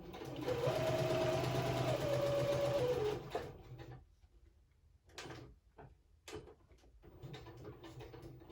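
A sewing machine stitches a straight line through a junk journal in a steady, fast mechanical whir lasting about three seconds, then stops, followed by a few faint clicks and handling noises.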